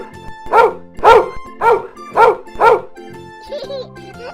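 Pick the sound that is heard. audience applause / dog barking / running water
dog barking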